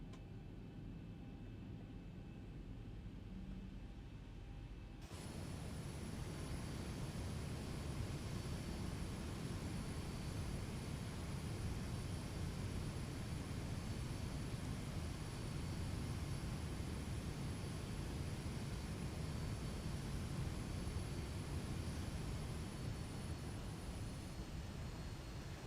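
A Boeing 737-900 jet in X-Plane 11 begins taxiing at Phoenix airport, its engine noise jumping from a low idle hum to a louder steady whine and rumble that holds for the rest of the clip.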